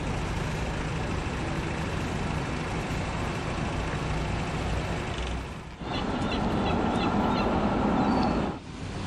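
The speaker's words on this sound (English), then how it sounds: "We actually came from the airport using the train, and the train station is right there." An express airport train passes near a station in Oslo, its loud, steady rumble filling the air up close and continuing almost unbroken, with one brief dip near the end.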